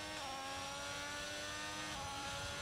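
A McLaren race car engine in a racing video game holds a steady, high, buzzing drone, with dense harmonic whine sustained throughout and no pauses.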